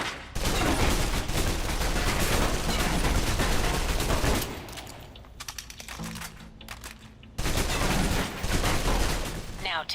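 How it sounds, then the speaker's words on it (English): A submachine gun in the video game Fallout New Vegas empties its clip in a loud, dense stream of rapid shots. The burst breaks off briefly midway, then sharply resumes at full volume. "Now, let's move on to the submachine gun. Now let's empty the clip."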